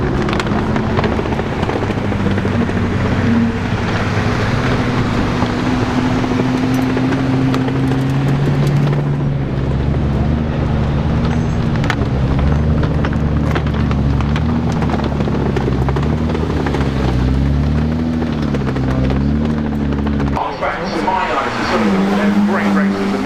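Gordon Murray T.50s at the Goodwood Festival of Speed 2025, its engine note climbing and falling through repeated rising revs as it accelerates past, with crowd and wind noise and a commentator talking over it.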